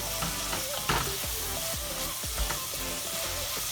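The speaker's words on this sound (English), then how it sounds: "now we're going to go ahead and add the 3 beef bouillon cubes. We're going to stir that in." Beef bouillon cubes being stirred into a pot of Cajun jambalaya, a steady sizzle with several scraping spoon strokes against the pot, close and clear with no talking.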